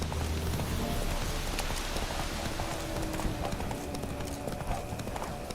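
Roach, Geralt's horse in The Witcher game, galloping with steady rapid hoofbeats under a wash of rain, loud and close throughout.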